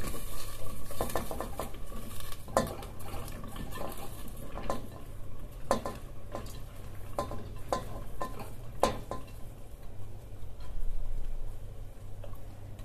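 Peppers stirred in a pot of boiling salted water, a utensil clinking and knocking against the metal in uneven taps over a steady bubbling rumble.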